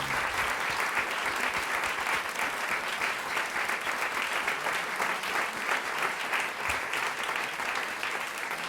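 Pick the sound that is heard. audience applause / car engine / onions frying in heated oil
audience applause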